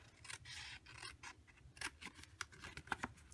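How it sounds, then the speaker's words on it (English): Scissors cut cardstock along a score line, giving close, crisp snipping and rasping strokes in a quick irregular series, each with a short papery crunch, over faint background noise and no talking. "I'm cutting to this score line, and then I'm going to slightly miter like that."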